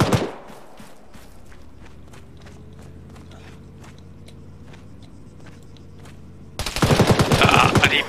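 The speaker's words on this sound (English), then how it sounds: "the Dushka's still shooting." A DShK heavy machine gun fires in Arma 3 during an ambush on Soviets in Afghanistan, a steady rhythmic stream of shots heard at a distance over a low engine drone, followed by a loud close burst of noise.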